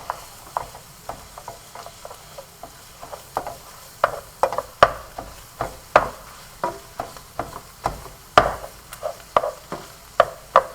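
Frozen ground beef breaks apart in a hot pan with a steady stream of sharp scraping clicks and taps from a utensil, over a low sizzle, close and rhythmic.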